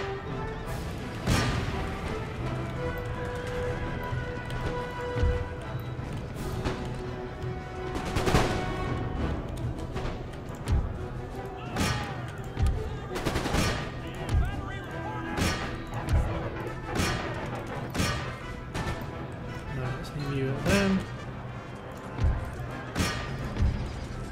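Musket volleys in the strategy game Empire Total War, fired during a battle against Russian forces: repeated sharp crackling bursts of gunfire at irregular intervals over a dense, continuous battlefield din, loud throughout.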